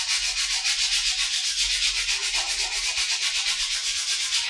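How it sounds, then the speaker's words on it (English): Old finish comes off Heywood Wakefield wood furniture under 120-grit sandpaper with light pressure, a steady close rhythmic rasp of quick back-and-forth strokes running throughout, with no talking. "I'm going to do about 10 passes with 120 grit sandpaper with not a whole lot of pressure."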